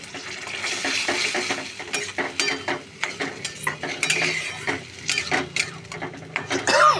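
Banana stem stir-fry with coconut being stirred and tossed in a pan, rapid irregular scraping and clattering of a spatula against metal, close and busy throughout.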